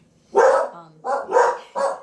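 A dog barks four times in quick succession, close and loud, with short gaps between the barks.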